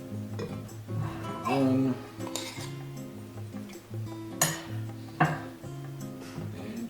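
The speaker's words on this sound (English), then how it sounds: "I have my measuring spoons here." Metal measuring spoons clinking against a bowl while measuring flour in a home kitchen, a few light scattered clinks and taps, with a brief spoken word.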